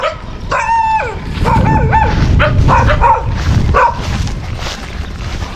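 Dogs bark and yip in a quick cluster over steady rushing background noise, fairly close, then fade.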